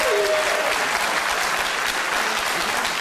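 A debate audience at a Scottish independence referendum event in Kirkcaldy bursts into loud, sustained applause with some cheering, a dense crowd clapping that continues steadily to the end.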